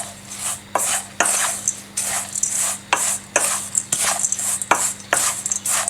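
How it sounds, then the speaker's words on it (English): Spirulina patty mixture being stirred in a bowl, a rhythmic series of wet scraping and clacking strokes from a utensil against the bowl, close and fairly loud, roughly two strokes per second. "Stir this up, see what it's looking like"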